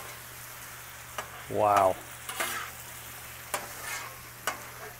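Sweet potato yams with brown sugar sizzle steadily on a Blackstone griddle, with a spatula scraping and stirring now and then, while a person briefly exclaims.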